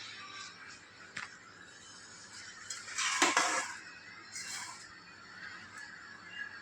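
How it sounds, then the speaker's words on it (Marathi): Vermicelli goes into a pot of boiling water, making a soft rustling splash midway over a steady bubbling hiss, with a few faint clinks of a pot or utensil. "तशी पाण्याला उकळी आलेली आहे, आता आपण शेवया टाकूया"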